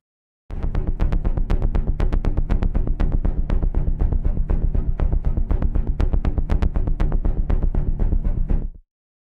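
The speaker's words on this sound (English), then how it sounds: "There's also an optional pulsate feature." Orchestral strings from the Symphobia 4 Pandora library play a pulsating rhythmic pattern, a rapid steady train of sharp bowed pulses lasting several seconds, loud and close, then cut off abruptly.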